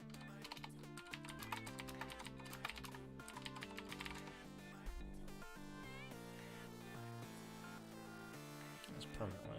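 Rapid keystrokes on a desktop computer keyboard patter steadily throughout, close by, under a loud continuous bed of music.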